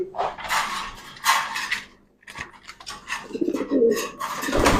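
Large fancy pigeons coo close by, low rolling calls mixed with handling noise and creaks, with voices talking over parts of it.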